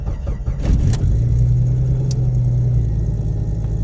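A 1991 Jeep engine turns over just after an oil change, its starter grinding briefly before the motor catches and settles into a steady, loud, close idle rumble.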